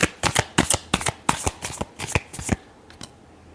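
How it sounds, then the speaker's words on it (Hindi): Tarot cards being shuffled up close in a quick run of crisp, riffling bursts for about two and a half seconds, then a couple of softer flicks after it. No one speaks. "last shuffle"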